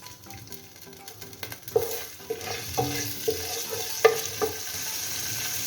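Whole cumin seeds and bay leaf sizzling in hot oil in a pan, a steady crackling hiss broken by several clinking spoon or spatula taps against the metal.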